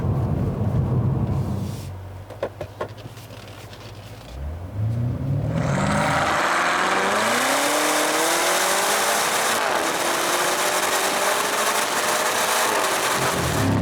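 A 2018 BMW M5 engine and exhaust heard while driving: a low idle-like rumble, then a rising rev as the car accelerates hard, holding a loud, steady drone with shifting pitch through gears, no talking.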